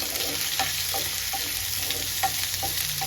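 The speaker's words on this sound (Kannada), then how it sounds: "ನೀಟಾಗಿ ಕಟ್ ಮಾಡಿ ಇಟ್ಕೊಂಡಿರುವಂಥ ಹಸಿಮೆಣಸಿನ್ಕಾಯಿ ಕರಿಬೇವು ಈರುಳ್ಳಿ ನೀಟಾಗಿ ಅದನ್ನು ಫ್ರೈ ಮಾಡ್ಕೊಳ್ಳೋಣ" Chopped onion, green chilli and curry leaves fry in oil with cumin, a steady close sizzle broken by a few quick spatula scrapes in irregular rhythm; no one speaks.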